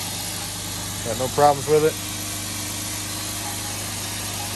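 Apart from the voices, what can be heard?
2009 Jeep Wrangler with swapped van engine idling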